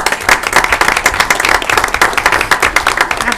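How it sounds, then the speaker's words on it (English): Applause breaks out at a school board meeting, a steady round of many hands clapping close by, filling the whole moment without talk. "I think that deserves a round of applause"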